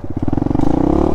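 Suzuki DR-Z 125 motorcycle engine idling and pulsing steadily near the microphone during clutch and brake practice, a close, loud rhythmic chug that rises slightly in pitch toward the end.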